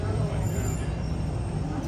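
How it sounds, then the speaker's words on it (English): The Disneyland monorail hums and rumbles steadily from close by, a continuous vehicle drone with people talking quietly inside. "We're going on the monorail."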